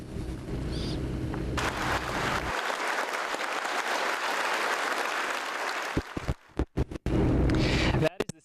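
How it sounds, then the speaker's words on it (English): At a memorial service, an audience stands and claps for firefighters as they walk in. The sustained crowd applause swells in the middle, then breaks up into a few scattered bursts and gaps with some voices nearby. "The audience stood for 5 minutes and just clapped for the firefighters as they walked in."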